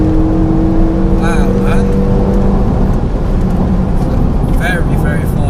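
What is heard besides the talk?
Renault Megane RS engine heard from inside the cabin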